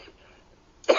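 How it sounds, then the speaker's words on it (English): A single short cough bursts out at the very end after near silence. "Once you develop a cough"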